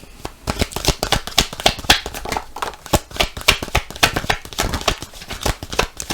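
Oracle cards are shuffled and dealt out in rapid riffling bursts, with dense papery flicks and snaps that keep up steadily, close by and with no talk.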